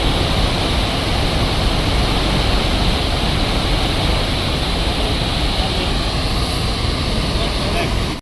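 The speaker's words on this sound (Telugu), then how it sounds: "ఈ చిత్రకూట్ వాటర్ ఫాల్ 330 మీటర్ల వెడల్పు, 95 అడుగుల ఎత్తు కలిగి ఉంటుంది" Chitrakoot waterfall in Chhattisgarh, a broad 330-metre-wide, 95-foot-high fall, roars as a dense, steady, loud wash of rushing water with no break throughout.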